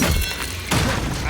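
Expelliarmus spell striking in a Hogwarts wizarding video game: a loud, dull thudding impact with a second broadband burst midway, set against busy game background noise.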